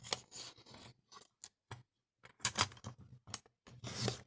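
Scissors make a series of crisp, close snips, several separate cuts with short pauses between, while small pieces are trimmed for a ribbon and lace craft.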